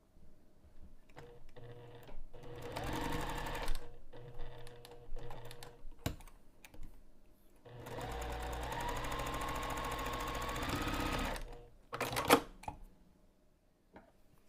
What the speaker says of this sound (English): We'll sew this long edge and then just one of the short ends.